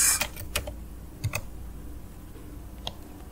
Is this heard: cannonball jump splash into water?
no